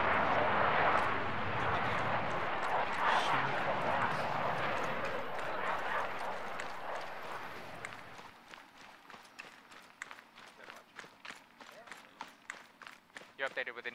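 A Chinook helicopter in the video game Arma gives off a loud, dense rotor and engine roar that fades after about eight seconds, leaving quick footsteps, while voices talk over it.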